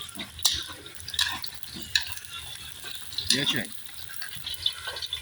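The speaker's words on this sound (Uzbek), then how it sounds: "suyagimiz qovurilib, yog'imizga mazasi chiqyapti" Meat bones and onions frying in oil for Uzbek plov give a crackling sizzle, broken by repeated scraping stirs, with people talking over the cooking.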